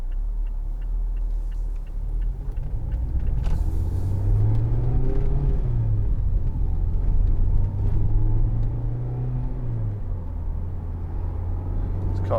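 Steady low rumble of a 2019 Mazda MX-5 convertible with the 184 ps engine cruising on an open road, its engine note rising and falling gently with a faint ticking in the cabin.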